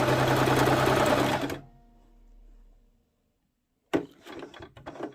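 A Singer Promise 1408 sewing machine runs a zigzag stitch, loud and steady for about a second and a half, then stops; a few light clicks and handling knocks follow after a pause.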